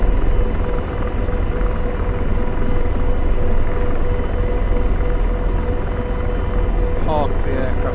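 A military aircraft engine in the DCS flight simulator drones loudly and steadily throughout, a dense continuous rumble with a faint whine, ending in a short click.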